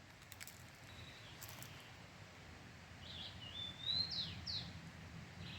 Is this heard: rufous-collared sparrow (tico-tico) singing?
yes